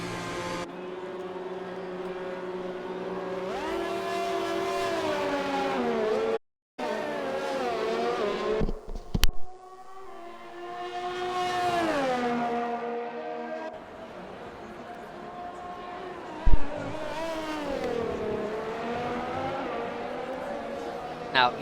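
A Ferrari and a Mercedes race car on soft tyres circle the Russia track in an RSF1 league racing video game, their engines whining in repeated rising and falling sweeps, with occasional tire squeal, loud and continuous.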